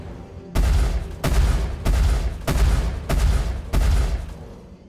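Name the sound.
spaceship guns firing, from video game Star Citizen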